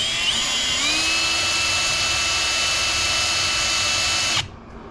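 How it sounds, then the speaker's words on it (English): A power drill bores through the plastic of a Bronco badge letter, a steady high whine holding for about four seconds before cutting off abruptly. "Drill out the plastic enough"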